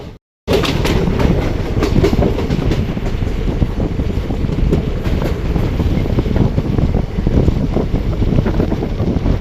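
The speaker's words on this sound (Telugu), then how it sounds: "ఈ మధ్యలో ఇంకో ట్రైన్ అయితే వస్తుంది" A passenger train rolls past between coconut palms on a line toward Madurai: a loud, close, continuous rumble with rhythmic wheel clatter and wind rush, no voices.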